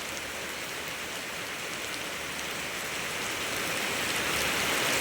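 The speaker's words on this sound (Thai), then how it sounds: "ฝนตกกระทันหันฝนตก ฝนตกละเช้าเนาะ" Heavy rain pours down steadily in a broad, dense hiss that stays loud and constant, swelling slightly toward the end, with no voices over it.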